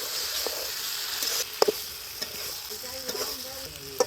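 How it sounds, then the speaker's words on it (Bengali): Beef being stirred in a frying pan with spices, for a village-style dry beef bhuna; soft sizzling with scattered scraping stirs and occasional clinks, fairly quiet, no voices. "এখন গোস্ত দিয়ে দিলাম নাড়া সারা দিয়ে দিলাম একটু"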